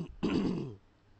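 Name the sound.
coughing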